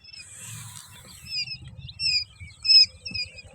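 Quail chicks in a brooder give scattered high, thin chirps over a low patter and shuffling, fairly close and without talking.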